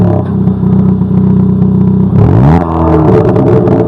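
A 2022 Hyundai i20 N hot hatch with an active exhaust valve revs loudly in Sport mode, a steady idle rising into a sharp climbing rev that holds high and rough, close and dominant.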